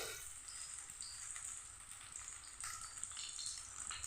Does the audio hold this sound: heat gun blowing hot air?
no